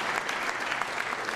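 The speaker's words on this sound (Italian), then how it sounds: "qui facciamo applausi a tutti quanti" An audience at the Premio Lazialità 2012 award ceremony claps in a dense, even burst of applause, fairly distant and steady through the short moment.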